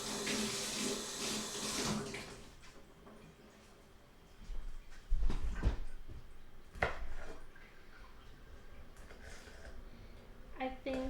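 Kitchen tap water runs over food being washed before it is cut and plated for udon, a steady splashing stream up close in the opening seconds, then trailing off into clatter and a spoken voice.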